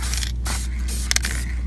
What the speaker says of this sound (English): you just got to get your little spray bomb, make sure there's no other cars nearby and no wind, and you just want to apply really light coats